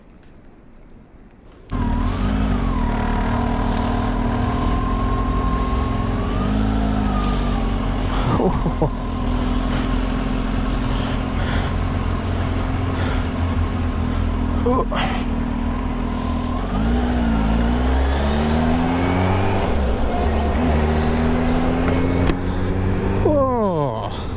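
Kawasaki H2 SX SE sports touring motorcycle on a test ride. After a short quiet start the engine cuts in loud and close, then drones on with steady wind rush and several rising and falling pitch swings as it revs and shifts.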